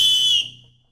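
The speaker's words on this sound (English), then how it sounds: "The hyper whistle produces a shriek with a decibel of up to" A piercing, high-pitched self-defense whistle shriek, rated up to 142 decibels, sounds loudly for a moment, then cuts off and fades into quiet.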